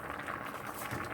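Pinto beans with a smoked turkey leg simmering in a pot, giving a steady close bubbling and soft liquid patter with no voices.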